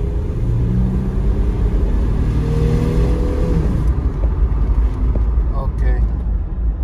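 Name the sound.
2003 Chevy Trailblazer engine revving at full throttle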